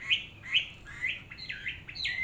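A Chinese hwamei songbird sings a series of clear, rising whistled notes and short chirps, fairly close and alone, with gaps between phrases.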